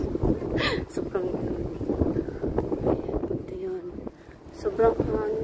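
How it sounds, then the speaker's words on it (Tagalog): Strong wind buffets the microphone at Dubai Creek Harbour, a continuous low rumbling roar that stays loud throughout while a person talks over it. "Sobrang hangin mga person"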